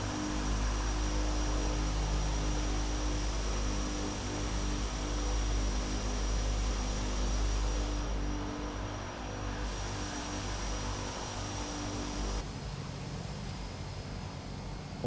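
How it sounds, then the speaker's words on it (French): A de Havilland Canada Twin Otter DHC-6-300 with its propeller engines in reverse thrust, a loud, close, continuous broadband roar and hum that holds steady for about fifteen seconds with only slight shifts in tone, no voices. "Donc, on a activé les reverse."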